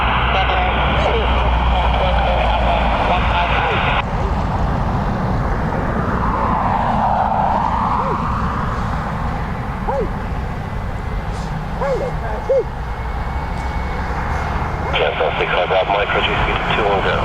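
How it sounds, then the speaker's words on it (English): An Aer Lingus Airbus A320-200 jet from Barcelona at Dublin Airport makes a loud, continuous engine roar that holds steady throughout, a broad airliner drone filling the whole stretch. "EI 563 from Barcelona to Dublin, Airbus A320-200, EI FNJ"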